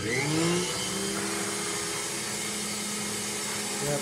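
A vintage Rexair Rainbow model B vacuum cleaner runs on carpet with a steady, droning motor whine that holds nearly constant and close throughout.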